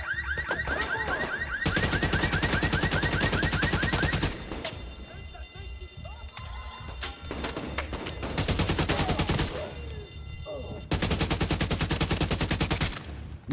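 Automatic gunfire from a recoiling gun in The Division 2 video game: several long rapid bursts with pauses between them, loud and close, plus scattered game effects and a high electronic whine in the background.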